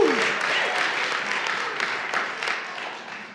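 A crowd gives scattered applause at a faith-themed Black history talk, starting fuller and thinning to a softer patter with a few sharp claps standing out.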